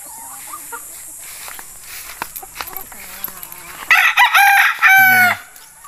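People talk over background noise, then a rooster crows loudly and close by, one long drawn-out call.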